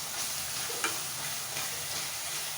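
Garlic and green coriander frying in a pan give a loud, steady, close sizzle with faint stirring clicks throughout.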